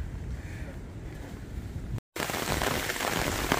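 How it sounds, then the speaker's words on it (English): Rain falls steadily on a blustery day, a dense, even hiss mixed with gusting wind buffeting the microphone, continuous apart from a momentary dropout. "Okay, the rain's coming down now."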